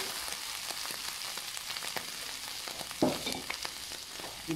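Pork sizzling and frying steadily in a hot pan, a continuous close crackle with a brief louder burst midway.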